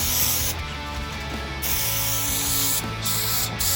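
Contact adhesive sprayed onto panels during a DIY camper van build; loud, close bursts of hissing spray that cut off and restart several times in quick succession, with no voices.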